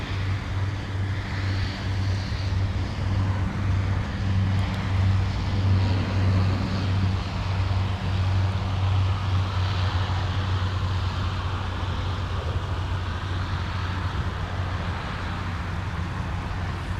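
Steady low jet engine roar from an airliner taking off on runway 17 at Minneapolis–St. Paul airport in winter, a continuous loud rumble with a strong low drone holding evenly throughout.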